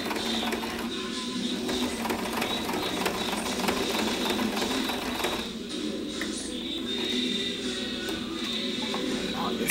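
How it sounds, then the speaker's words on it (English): A sewing machine runs steadily close by, a continuous whirring and rattling drone as it stitches red thread over a red zigzag on a zippered tote panel, with a brief change in pitch midway and no talk. "Just sewing right through the zigzag"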